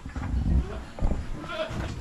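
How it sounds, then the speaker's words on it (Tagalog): A goat on a small Filipino farm bleats a few times nearby, short wavering calls overlapping with people talking in the background. "Yung isa nating kambing na may 4 na anak,"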